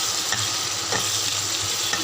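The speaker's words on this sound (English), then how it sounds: "So I'm just mixing the tomatoes into this." Tomatoes and onions being stirred and mashed in a hot pan for an Andhra-style Roopchand fish masala curry, giving a steady close sizzle with soft scraping strokes and no talking.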